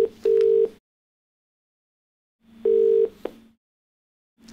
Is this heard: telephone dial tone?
yes